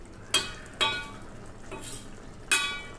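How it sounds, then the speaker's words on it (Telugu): Ridge gourd and tomato curry simmering in a pan, a soft steady sizzle broken by a few sharp scraping stirs at irregular intervals, close and fairly quiet with no voices. "కొంచెం ఉడకనివ్వండి కర్రీని."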